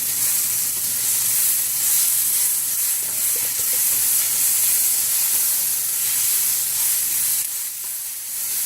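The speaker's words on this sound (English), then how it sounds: "You can hear it bubbling up." Mexican rice cooking in tomato sauce in a pan, giving a steady loud hiss of sizzling and bubbling with faint pops, close and unbroken.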